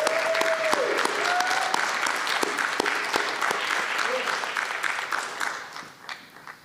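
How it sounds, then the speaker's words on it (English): Audience applause at a young entrepreneurs celebration, dense steady clapping from a crowd that runs strong and close, with faint whoops and voices mixed in, then thins out and fades near the end. "let's give them all a quick round of applause"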